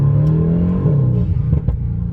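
A Mercedes-AMG GT S engine rumbles steadily with a low drone, then a few sharp crackling exhaust pops near the end.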